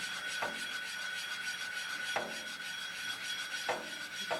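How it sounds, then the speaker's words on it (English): A small wooden block rubs abrasive compound back and forth across a hair clipper blade plate, giving a steady close rasping scrape with a few sharper strokes. "Little wooden block that comes with the kit as well. Lean into it, rub that in."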